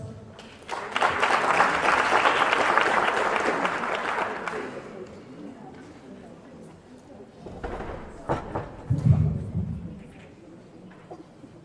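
Applause from the chamber during a youth parliament session rises as a dense burst for about four seconds, then fades. Speech and scattered sounds follow.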